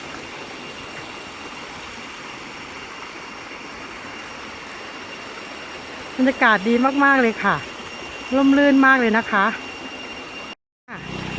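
A stream flows down from Krathing waterfall beside a forest walking trail, giving a steady rushing hiss throughout. Someone talks over it for a few seconds near the end.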